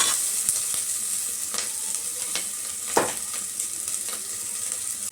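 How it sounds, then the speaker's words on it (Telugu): Curry leaves frying hard in hot oil for pappu sambar, a bright steady sizzle close by with a few sharp crackles and one louder pop near the middle. "కరివేపాకు ఇదంతా బాగా వేగాలి"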